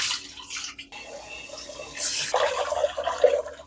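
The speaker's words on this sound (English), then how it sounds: "y'all better wash your rice" Rice being rinsed in water gives soft sloshing and swishing splashes, with a brief louder pour midway, close and fairly quiet, with no talk.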